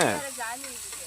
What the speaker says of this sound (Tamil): பட்டை கிராம்பு மிளகு ஜீரகம் என்னமோ போடுறேன் வெங்காயம்